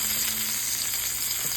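Garlic fries in a pan of oil just after the flame is switched off, giving a steady, close hiss with fine crackling that holds evenly throughout and has no voices over it.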